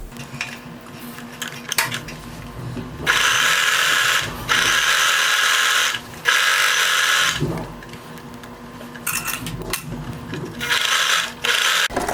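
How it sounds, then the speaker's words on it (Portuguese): A sewing machine runs long stitches through fine dress fabric in several bursts of rapid mechanical whirring, each lasting a second or two and separated by short pauses and quieter handling noise, heard up close. "Vou passar duas vezes, uma em cima da linha que eu alinhavei, que é a minha margem de costura"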